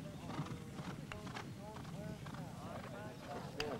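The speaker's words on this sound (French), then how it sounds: "monter sur un cheval à pleine vitesse" Polo horse galloping at full speed during a high-goal match, hooves drumming in a steady clip-clop rhythm with occasional whinnies, set against continuous crowd and voice chatter.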